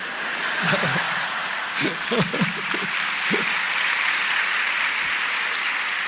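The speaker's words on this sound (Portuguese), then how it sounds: "vocês aplaudindo essas coisas aí" A lecture-show audience applauds in a steady, dense wash of clapping that lasts the whole stretch, with a few chuckles and murmured voices rising briefly near the start.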